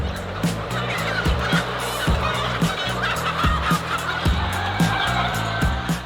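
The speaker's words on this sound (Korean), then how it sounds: "수만 마리의 닭이 모여있는 축사." Silkie chickens crowded in a large poultry house, a dense din of clucking and honking calls over steady rhythmic mechanical thumping, loud and continuous with no talk.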